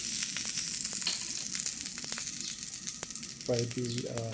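Shrimp fried in a smoking-hot wok for shrimp hofan, a constant bright sizzle with scattered crackles and pops, and a brief voice speaking near the end.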